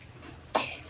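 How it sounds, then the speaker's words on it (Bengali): A sick child with fever and a runny nose gives a single short, sharp cough about halfway through, close by, after quiet room noise. "কাশি হয়েছে"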